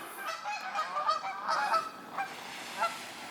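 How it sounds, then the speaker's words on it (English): Geese honk repeatedly by the water, a run of loud, close, overlapping calls with short pauses and no talk. "the geese. They're a little annoying."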